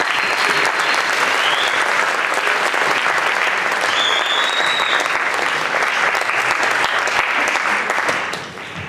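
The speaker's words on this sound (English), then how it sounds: "How about a round of applause for the Blue Band?" Sustained applause from a concert audience for a high school honor band, dense steady clapping that fills the room at even loudness, then tapers slightly at the very end.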